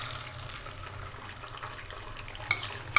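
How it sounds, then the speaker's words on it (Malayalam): Four eggs being mixed with pepper powder and salt, a soft steady stirring swish at close range, ending in a couple of sharp clinks against the bowl. "4 മുട്ടയിലേക്ക് കുറച്ച് കുരുമുളക് പൊടിയും കുറച്ച് ഉപ്പും കൂട്ടിയിട്ട് മിക്സ് ചെയ്യുന്നുണ്ട്."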